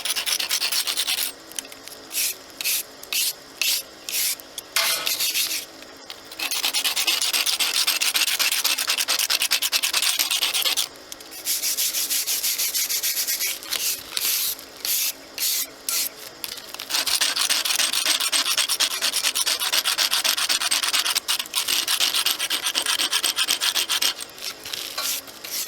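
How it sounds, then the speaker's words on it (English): Old coating scraped off a chimney crown, harsh gritty rasping strokes repeated in long bursts with brief pauses between, close and loud with no talking. "we want to make sure we scrape off all the old coating that they put on there"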